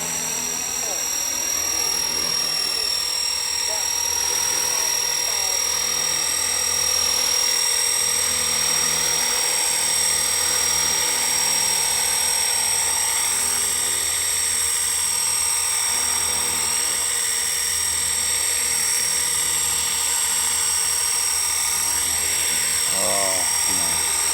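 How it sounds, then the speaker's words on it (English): A steady, high-pitched whining engine drone with a whirring rotor texture, continuous and loud for the whole stretch, like a small helicopter running. "Yeah, lovely little helicopter."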